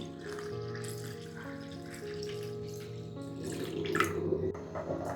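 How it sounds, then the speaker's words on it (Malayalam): Water poured into a saucepan lined with a cloth, set up for double boiling, runs as a steady close splashing stream that grows louder and more turbulent toward the end. "എന്നിട്ട് നമുക്ക് ഇതിലേക്ക് വാട്ടർ ഒഴിച്ച് കൊടുക്കാം."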